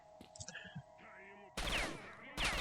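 Two bursts of loud gunfire in STALKER: Shadow of Chernobyl crack out after a stretch of quieter game sounds and faint chirps, the second burst coming shortly after the first.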